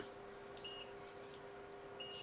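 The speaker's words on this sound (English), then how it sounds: "let's check in continuity mode what we have here" A multimeter set to continuity sounds two brief high beeps across a shorted capacitor on an iPhone 8 Plus board. The beeps come at a quiet level over a low electrical hum.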